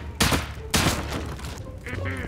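Gunfire in the survival video game Rust: two sharp, loud shots about half a second apart, followed by a brief voice.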